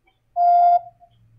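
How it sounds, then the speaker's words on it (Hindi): A single short electronic voicemail beep sounds on a phone call. The steady tone lasts under half a second, clear and alone against near silence. "Please record your message after the beep."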